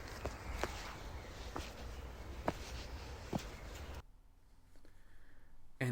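A handful of quiet, spaced video game footsteps in Alone in the Forest, soft thuds tapping irregularly to the sides, over a faint background that drops away near the end; no talking.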